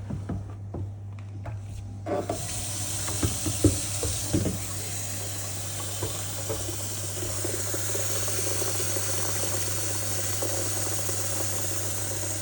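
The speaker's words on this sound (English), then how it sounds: "And fill up the clean water." Water runs steadily into the clean water tank of a Narwal Flow robot vacuum-mop dock, a continuous close hiss and trickle after a few brief clunks, with a low steady hum underneath.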